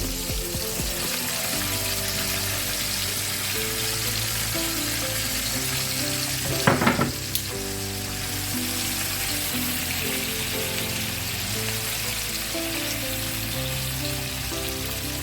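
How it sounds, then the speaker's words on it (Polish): Onion frying in a pan with browned sausage, a steady crackling sizzle over medium heat, briefly interrupted by a short clatter, then the hiss carries on evenly. "dajemy cebulę na patelnię"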